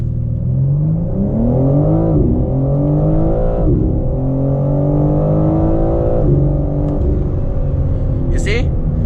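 A 2022 BMW M4 Competition xDrive accelerates hard from a launch, its engine note climbing loudly through several gear changes with short dips between rising sweeps, close and continuous.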